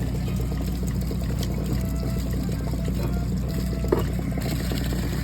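Water pours and trickles steadily at close range as an RV water heater tank drains, under a constant low hum, with a faint clunk partway through.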